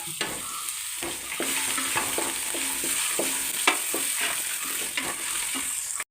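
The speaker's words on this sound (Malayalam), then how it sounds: "ഈ പച്ചമുളകും ഈ കരിയാപ്പിലയോടെ അങ്ങ് ഇടാം" Green chillies and curry leaves fry in hot oil in a pan for a Kerala-style pork curry, a steady close sizzle broken by repeated scraping stirs of a spoon, with no talking.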